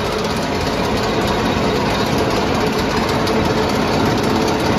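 A workshop machine runs steadily after its crank is spun up, a constant loud mechanical drone and hum with no talk over it.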